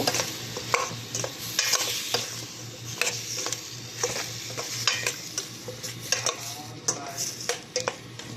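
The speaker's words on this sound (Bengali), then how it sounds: "এইবার সামান্য একটু নাড়াচাড়া করে নেব" A spoon stirs ash gourd curry with chickpeas in a pan, scraping in quick irregular strokes over a steady low sizzle of frying, close and clear with no voices.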